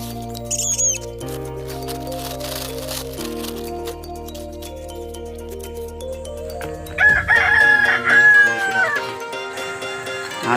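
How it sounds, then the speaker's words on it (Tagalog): A rooster crows once in the later part, a rising, strained call heard after a stretch of steady background music. "Natilaok ang manok."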